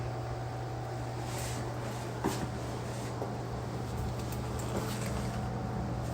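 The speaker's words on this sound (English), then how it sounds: "There's the furnace. Heat pump, indoor unit." The indoor unit of a heat pump furnace in a laundry room runs with a steady low mechanical hum, an even drone with a couple of faint clicks and no voices.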